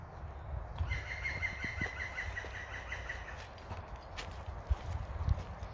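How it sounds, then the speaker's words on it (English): A bird trills in a rapid run of chirps outdoors in a park at Sutton Bridge, fairly faint over steady ambient noise, with a few scattered footstep-like thuds. "Not entirely sure what bird that is I can hear."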